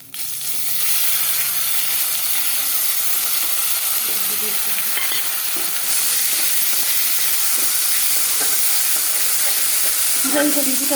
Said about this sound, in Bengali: তেজপাতা দে তেজপাতা সাদা জিরে দেওয়া হলে এখন আর জানি তেজপাতাটা ভাজা ভাজা হলে